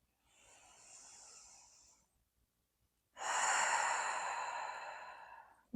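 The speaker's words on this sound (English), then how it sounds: "3 deep cleansing breaths, taking a full inhale through the nose. Exhale, expanding the belly, sighing out." Two deep yoga breaths, each a full inhale through the nose followed by a long sighing exhale, close and clear in a quiet room; the second breath is louder and fuller, with no talking.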